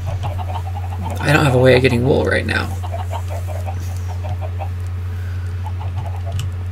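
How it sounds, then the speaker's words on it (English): Clucking chickens in a blocky survival video game, several short clucks and squawks bunched early, then fainter scattered clucks over a steady low hum, with someone talking over them. "Those chickens are driving me nuts."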